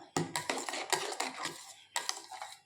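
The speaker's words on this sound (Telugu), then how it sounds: "ఈ పాలు కూడా వేసేసుకొని కొంచెం కలుపుకుందాం" Milk being stirred into a banana milkshake, a spoon clinking and scraping repeatedly against the vessel in quick uneven bursts, fairly close but quiet; no talk.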